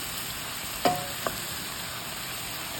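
Beef and peppers in oyster sauce bubble away in a pan with a steady, close-up sizzling hiss, broken by two brief clinks.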